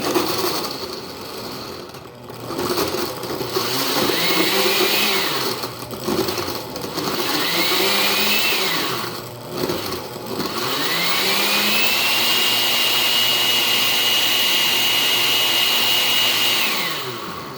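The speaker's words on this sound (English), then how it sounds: "then we're going to get the blender going here" A blender whirs through coffee and ice in long, steady, loud runs. The motor pitch rises as it spins up and sags as the ice catches, with short pauses between runs.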